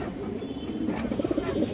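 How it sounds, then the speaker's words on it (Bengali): A female pigeon coos softly in a short, throaty burst, close by, over a low background hum. "এটা মাদি কবুতরটা"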